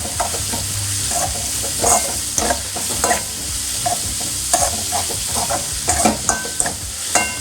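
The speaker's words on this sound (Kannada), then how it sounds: "ಈಗ ಒಗ್ಗರಣೆ ಚೆನ್ನಾಗಿ ಫ್ರೈ ಆಗ್ತಾ ಇದೆ" Tempering (oggarane) frying in a pan while being stirred, a steady sizzle of hot oil with repeated scraping and clinking of the spoon against the pan, close and clear with no talking.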